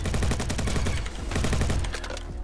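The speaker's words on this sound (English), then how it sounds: "They're shooting me again." Automatic gunfire in the Roblox game Bad Business rattles out in rapid, loud continuous bursts, close and dense, with a brief slowdown before another sustained volley.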